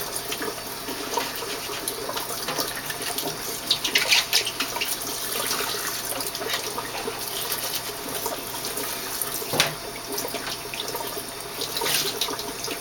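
Water runs steadily from a tap as a hose is being cleaned, a continuous splashing hiss with brief louder surges, close by and with no talking.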